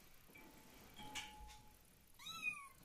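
A house cat gives a single faint meow near the end, with quiet room ambience and a few soft thin tones before it.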